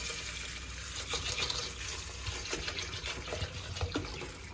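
Water pours steadily into a pot in a home kitchen, a continuous close splashing gush with small irregular splatters and no voices.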